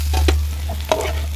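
Ground masala sizzles lightly in oil in a pan for a spicy egg and garlic curry, a soft frying hiss with a couple of brief stirring scrapes over a steady low hum.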